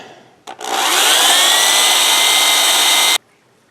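A power drill countersinks a rivet hole in an oilfield clutch lining, giving one loud, close, continuous whining grind of about two and a half seconds after a brief start, then cutting off abruptly.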